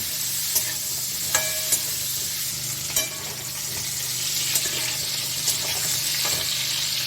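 Chunks of raw jackfruit fry in oil with turmeric, giving a continuous sizzle broken by sharp, regular clicks of a spatula stirring against the pan.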